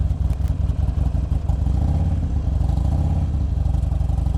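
A Buell Ulysses adventure motorcycle engine rumbles close and loud with a steady low throb, some mechanical clatter over it, and throttle rising slightly through the run.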